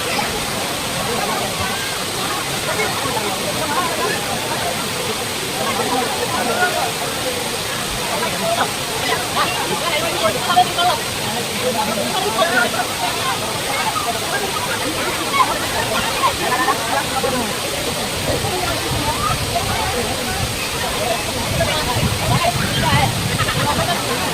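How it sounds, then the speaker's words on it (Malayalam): Areekkal waterfall, running at high evening force, roars in a steady, loud, unbroken rush of water that holds constant throughout. "വെള്ളത്തിൻ്റെ ഫോഴ്സ് വളരെ നന്നായി കൂടിയിട്ടുണ്ട്."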